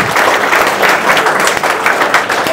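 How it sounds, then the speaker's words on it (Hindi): Loud, dense applause from a close audience at a student motivation event, continuous clapping with no break and no voices over it. "भाई ताली 5 मिनट लगातार बजते रहनी चाहिए।"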